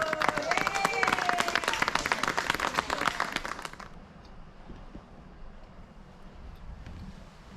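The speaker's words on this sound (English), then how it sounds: "let's give them a round of applause up there" Dense clapping from an audience at the Wisconsin Dells fills the first half, then stops abruptly, leaving wind rumble and faint background noise.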